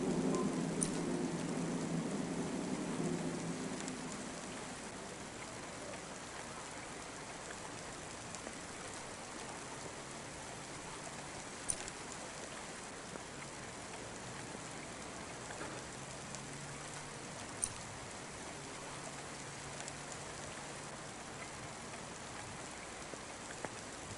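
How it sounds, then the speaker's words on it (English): Steady rainfall in the video game Cloudpunk patters on surfaces throughout, louder with a low rumble in the first few seconds, then settling into an even hiss with occasional sharp drips. "Don't let all the rain get you down."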